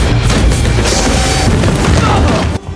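A loud explosion in an action thriller about mobsters, a dense roaring blast that fills the whole stretch at full volume before cutting off abruptly near the end.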